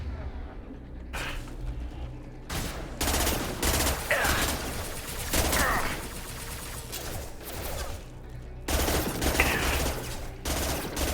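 Dense bursts of rapid gunfire crackle in repeated volleys in Mass Effect 2 Legendary Edition, with automatic fire and booming shots loud and close, broken by brief pauses.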